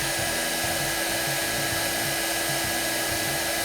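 A Panasonic EH-ND61 2000 watt hair dryer running steadily, a loud continuous airy roar with a constant motor whine, unbroken throughout and with no voices.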